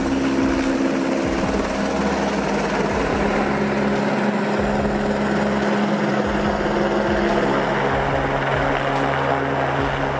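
A helicopter drones steadily and loudly throughout, its rotor thump and engine whine continuous and close, with no voices.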